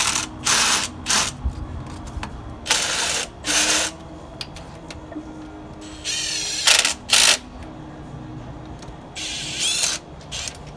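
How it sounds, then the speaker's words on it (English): A hand ratchet clicks in fast bursts while snugging down cylinder head bolts on an LS engine in a Silverado SS, several separate runs of close, loud clicking with short pauses between them. "We'll torque them all down after that. Get a little torque on it."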